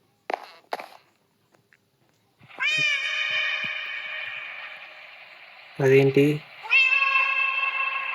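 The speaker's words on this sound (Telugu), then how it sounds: "క్యాట్ అంత పెద్దగా సౌండ్ చేస్తుందా?" Loud drawn-out cat meows inside a Minecraft game, two long cries separated by a brief burst of noise, with a short spoken remark and scattered clicks at the start.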